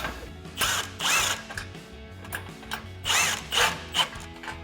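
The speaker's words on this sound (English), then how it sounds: "Then we can take a 14mm socket to tighten down our clamp." A ratchet drives a 14mm socket to tighten an exhaust hanger clamp on a 2015-2020 Ford F-150, giving short bursts of rapid clicking, close and fairly loud, with pauses between strokes.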